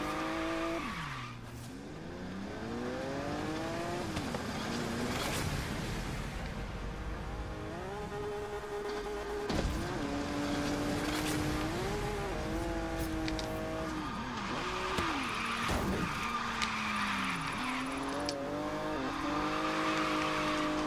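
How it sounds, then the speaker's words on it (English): A Forza Horizon 3 car drifts with engine notes sweeping up and down through gear shifts and throttle blips, tires squealing and skidding as it slides, loud and without talk. "That was a drift right there."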